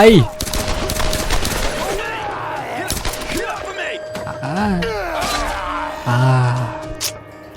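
Bursts of gunfire ring out in the video game Tomb Raider, in the Cliffside Village area, mixed with grunts, gasps and other game sound effects, loud and busy throughout.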